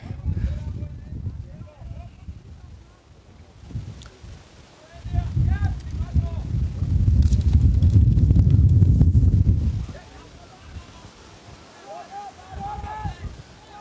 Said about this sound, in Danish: Beklager, hvis der er lidt baggrundsstøj, så skyldes det den meget kraftige blæsevejr, der er herude på Frederikssund Stadion.